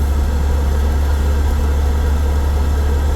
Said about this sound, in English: let your engine warm up first